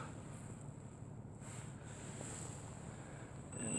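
Electric motors on an Infinite Jib Surveyor 630 drone spin up outdoors, a rising whine that begins only near the end over steady, loud wind noise buffeting the microphone.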